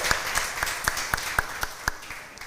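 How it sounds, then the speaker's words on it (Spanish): A church congregation claps in unison during a service, a steady rhythmic beat of about four claps per second over a softer bed of scattered applause. "Denle un aplauso al Señor"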